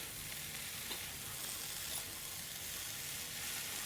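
Bottle gourd greens are stirred and fried in a pan, producing a steady, close, rustling sizzle with faint scraping that stays even from start to finish.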